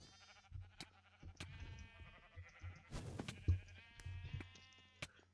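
Minecraft sheep bleat in several short, wavering cries spread through the clip, loud and close, mixed with game sounds and a few sharp clicks, with no talking.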